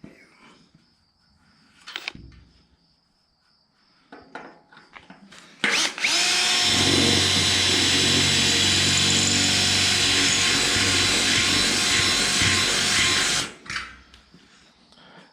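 A power drill bores holes in the rusty steel bed side of a 1952 Ford half-ton truck, giving one long, loud, continuous whine after a few short bumps and taps, then stopping abruptly.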